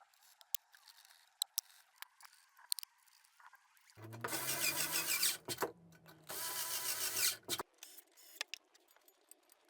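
Bolts are being tightened on the aluminium extrusion frame of a Sainsmart Genmitsu ProverXL 2x2 CNC machine. Sharp metallic clicks and ticks are followed by two bursts of whirring from a powered driver, all close and fairly quiet.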